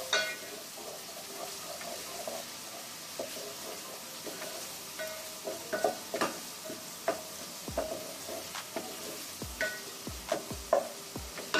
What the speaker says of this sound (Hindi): इसको हम हल्का सा फ्राई करेंगे। ये हल्का सा लहसुन अपना हल्का सा कलर चेंज करे।